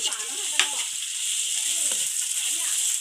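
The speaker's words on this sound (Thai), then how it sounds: "คั่วให้มันหอมๆ" Thai nam prik narok chili paste dry-roasts in a pan with a steady bright sizzle, stirred with occasional scraping clicks, close and continuous, faint speech-like tones underneath.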